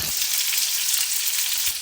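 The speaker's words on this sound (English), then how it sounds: "And now I am frying that on the pan." Steady, close sizzling of chicken frying in a hot pan, an even crackle with no voices.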